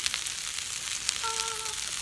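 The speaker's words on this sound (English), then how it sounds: "The onions and the carrots have been sauteing for about 5 or 6 minutes." Onions and carrots sautéing in a pan: a dense, bright sizzle, close and continuous, with a brief tonal beep partway through and no talking.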